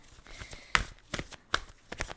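Tarot cards shuffled by hand, soft irregular riffles and slaps of the deck coming in short bursts, close and quiet.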